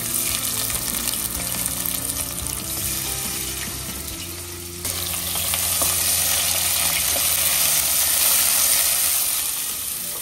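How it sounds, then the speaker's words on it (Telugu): Onions dropped into heated oil for a homemade mutton liver curry, giving a loud, dense sizzle that swells as they hit the pan and keeps frying steadily up close, with no voice. "ఆయిల్ హీట్ అయిపోయింది. ఇంకా ఆనియన్స్ వేసుకుందాం."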